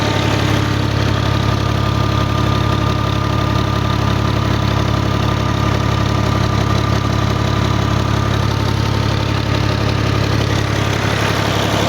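An old-model 480 tractor engine idles steadily and loudly at close range, a constant low rumble with a faint knock and no voices over it.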